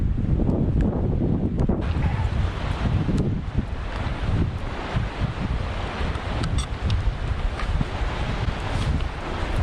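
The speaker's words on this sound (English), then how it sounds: "it's raining and it's windy" Gusty wind roaring and buffeting the microphone outdoors in rain near Boscastle, loud and uneven, rising and falling in bursts, with no talking.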